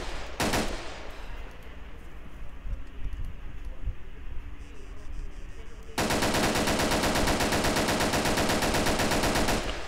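An Ultimax machine gun fires in Arma 3, starting with one sharp report and then, after a stretch of softer game noise, a long sustained stream of rapid, loud automatic fire.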